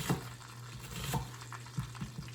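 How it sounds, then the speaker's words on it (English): Very thin slivers of onion fry in a pan with a steady sizzle, broken by a few soft stirring scrapes, close and fairly loud, with no voices. "Nothing like onions frying, right?"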